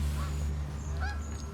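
Geese honk on a calm, misty lake, a few faint, distant calls over a steady low outdoor rumble.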